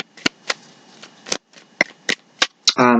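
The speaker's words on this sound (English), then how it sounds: "going to do one more shuffle" Tarot cards are riffled and bridged in a series of sharp, crisp bursts of shuffling. A voice starts talking at the very end.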